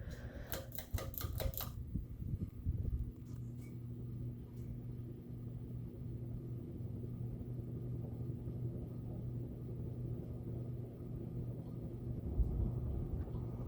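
A 52-inch Nutone Hacienda ceiling fan runs on high, giving a steady low hum with faint rattling throughout, after a short burst of clicking at the start.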